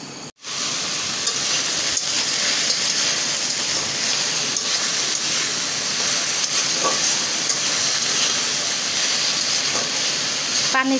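A pan of mashed-style fish and bean mixture (koi fish with broad beans) sizzles loudly and evenly after its water has cooked off, a dense continuous hiss with faint stirring knocks, close up and without speech.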